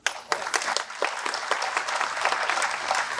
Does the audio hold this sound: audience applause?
yes